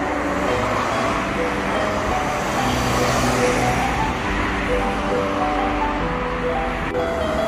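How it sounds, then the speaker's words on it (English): A car drives along a town street in Crediton, Devon, England, with a steady engine and road rumble filling the scene, close and fairly loud, no speech. "Oh, did you see that car?"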